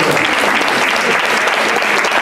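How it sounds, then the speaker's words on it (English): Dense, steady applause from a crowd at a mosque banquet in Atlanta, sustained clapping throughout with no breaks. "give them a round of applause out there"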